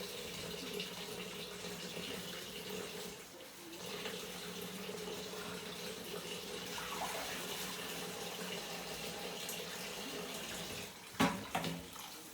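Tap water runs steadily into a bowl to thaw spinach, a constant splashing hiss, with a brief clatter near the end.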